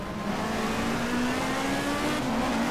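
A touring race car in the GTR2 racing game brakes hard into a corner at Adelaide, its engine note droning and sliding steadily down in pitch with a faint tire scrub underneath.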